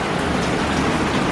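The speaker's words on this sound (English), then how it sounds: "bucketing down with rain and flooding our deck" Heavy rain pours onto a cruise ship deck, a loud, dense, unbroken roar of drops with no voices.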